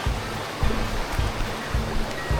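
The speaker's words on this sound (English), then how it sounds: "Perfect opportunity to wash my feet." Water splashing and sloshing outdoors at a campsite as someone washes their feet, a steady broadband wash with soft rhythmic surges, close and fairly loud, no talking.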